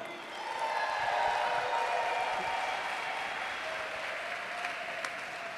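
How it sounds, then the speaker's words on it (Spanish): Audience applause welcoming a speaker to the stage, a steady, moderately distant wash of clapping with faint crowd noise that holds evenly, then eases slightly. "recibamos con un fuerte aplauso a Tiago Boca"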